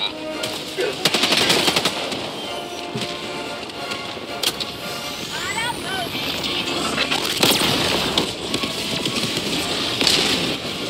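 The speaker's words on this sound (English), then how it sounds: "Firing orbital strike" Helldivers 2 orbital strike bombardment: rapid, dense volleys of blasts and gunfire crackle and thump throughout, loud and near, with shouted voices and a whistling descent mixed into the chaos.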